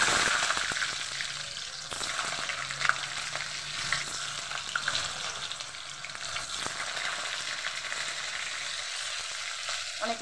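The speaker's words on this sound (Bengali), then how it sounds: "আমি তেল গরম হতে দিয়েছি, প্রথমেই আমি আলুগুলো ভেজে নেব।" Potatoes frying in hot oil at the start of a home-style chicken biryani, a loud, dense, continuous sizzle heard close up with a few faint stirring knocks and no voices.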